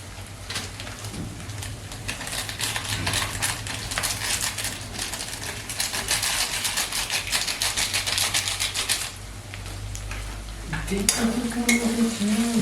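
Ground cumin, coriander and chili powder frying in a kadai while being stirred for a country duck meat curry, a dense close crackling sizzle with brisk scraping, easing toward the end.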